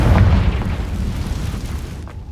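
A Confringo blasting spell goes off in Hogwarts Legacy as a loud, rumbling explosion that rolls on for about two seconds and then cuts off sharply.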